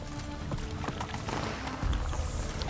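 Roach the horse from The Witcher 3 trots along in the rain, her hooves clip-clopping in a steady, close rhythm that runs through the whole moment.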